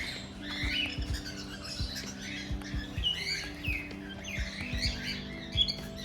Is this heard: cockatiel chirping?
yes